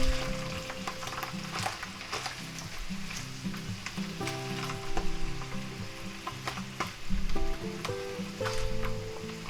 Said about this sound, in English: Nothing like mushrooms frying in a pan.